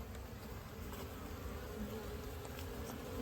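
Honey bees buzz around a hive in a steady, droning swarm, a continuous hum at low volume with no one talking.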